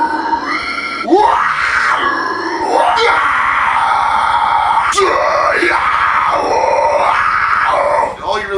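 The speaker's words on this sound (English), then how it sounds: "all you're really trying to do is just flex your scream muscles" A vocalist warms up with sustained screams that swell from low growls up to higher, rasping wails, loud and continuous with brief breaths between phrases.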